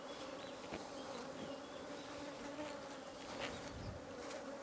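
Africanized honey bees buzz around a beehive, a dense, continuous hum of many insects that holds evenly throughout, with a few closer passes swelling briefly above the swarm.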